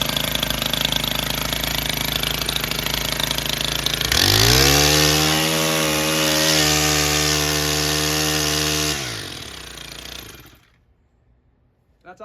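A rebuilt Stihl FS110 trimmer engine revs up sharply from a rough idle, holds a loud, steady high-revving drone for several seconds, then winds down and cuts off into near silence.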